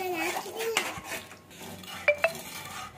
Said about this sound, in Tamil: ஸோ இப்போ இதை வந்து கட்டி இல்லாமல் நல்லா வந்து கிண்டிக்கலாம்.